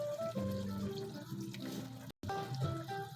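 Vinegar pours steadily into a pan of adobong sitaw with soy sauce and crushed tomatoes, a continuous watery trickle with a brief break near the end, close and moderately loud, no talking.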